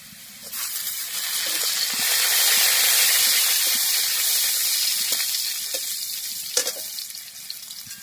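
Garlic turned light golden and chili flakes sizzle in hot oil for potato pasta, a steady bright frying hiss that swells in the middle with a few small pops and stirring clicks, close and alone.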